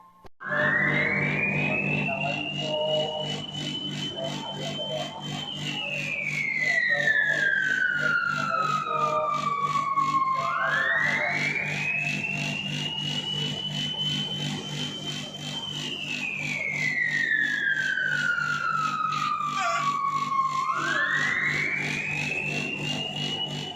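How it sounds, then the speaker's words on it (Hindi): A loud siren wails continuously, slowly rising and falling in long sweeps, about four cycles, steady and prominent throughout. "तो बस यहाँ पर अब सायरन बज गया है"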